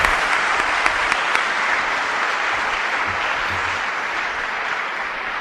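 A church congregation applauds and acclaims the Lord with sustained, loud clapping from many hands that fills the room evenly from start to finish.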